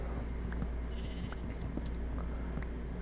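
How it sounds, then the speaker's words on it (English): Minecraft sheep bleat a few times in a short stretch, soft and fairly distant, over steady low game ambience with no talking. "Okay, there are a lot of sheep over here."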